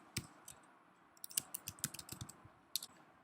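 Keys clacking on a computer keyboard while an email address is typed, a quick irregular run of close, crisp taps with brief pauses, no voices.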